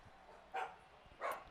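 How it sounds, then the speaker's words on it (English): Pet dogs barking in a home, two short yaps about half a second apart, faint and somewhat distant over a quiet background. "Apologize if you hear barking. My dogs are just like that."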